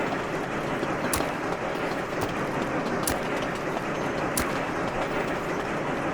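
A train departs in the video game Sweet Transit, a steady rolling rumble with sharp rhythmic clicks recurring every second or so, and no talk.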